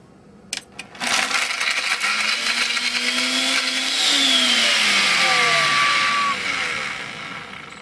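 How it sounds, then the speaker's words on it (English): Breville blender whirring through an orange smoothie, starting with a couple of clicks, then a loud, steady motor roar that rises in pitch as the fruit liquefies and eases off near the end. "The Breville blender also liquefied the orange in seconds"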